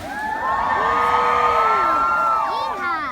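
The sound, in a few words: crowd yelling, screaming and cheering at luau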